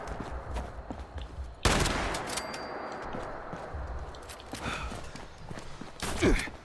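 Shotgun blasts from the video game Fallout 76 burst out loud and close among footsteps and other game noise, with a second sharp blast near the end.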